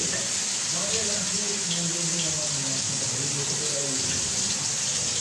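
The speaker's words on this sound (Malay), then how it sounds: "Jadi saya akan tambahkan sedikit air." Water is poured into a wok of chicken simmering in soy sauce. A continuous, fairly loud hiss and rush of pouring water runs throughout over a low cooking rumble.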